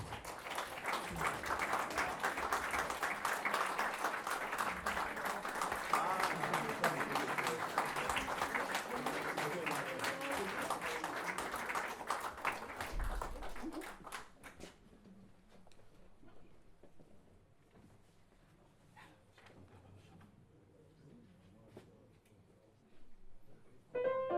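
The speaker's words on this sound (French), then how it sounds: "pouvons encore applaudir Aïda Mouradian et Moros et Garza." Sustained audience applause at a fundraising gala, a broad wash of clapping for about fourteen seconds that then stops, leaving faint room noise and scattered sounds.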